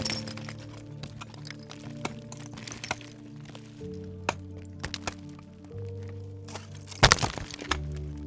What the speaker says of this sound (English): The ice is more brittle up here, and I'm having to work a lot more for my sticks.